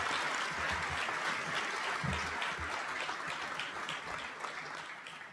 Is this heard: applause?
yes